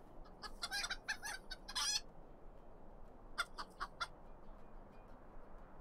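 Chickens cluck in Lord of the Rings Online, in a burst of loud squawking clucks followed by a shorter, quieter cluster of clucks over a faint game ambience.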